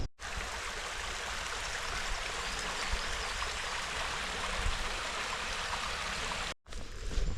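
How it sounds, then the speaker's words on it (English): A small brook beside a disused railway trackbed flows with a steady, close rushing and trickling that continues unbroken for several seconds, with a brief dropout near the end. "Another curious little brook."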